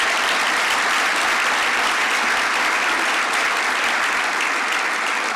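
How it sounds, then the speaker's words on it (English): A large audience gives sustained, dense applause for an honoree at an awards event, loud and even, a continuous wash of clapping with no pauses. "Let's give her a round of applause again."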